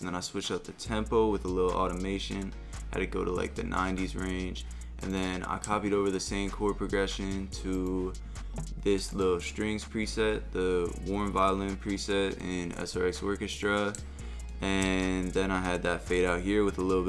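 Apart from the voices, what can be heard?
None of the usual background noises is heard.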